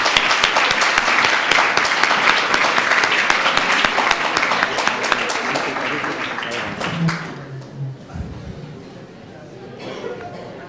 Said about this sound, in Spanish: Lo siento que estaban aplaudiendo ya.